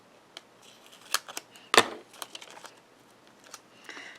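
Paper die cuts snipped with scissors: a few sparse, sharp snips and crisp rustles, one louder cut standing out, close and fairly quiet.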